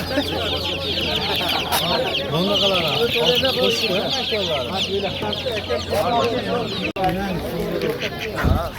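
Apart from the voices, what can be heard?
25-day-old chicks at a poultry market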